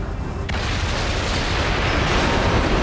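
Missile explosions in NieR: Automata burst in suddenly and swell into a dense, loud, roaring rumble that holds to the end, with no voices.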